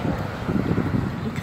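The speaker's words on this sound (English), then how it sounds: "it's getting windy" Strong gusty wind buffets the microphone beside a car park and highway, a loud continuous rumbling roar with no speech.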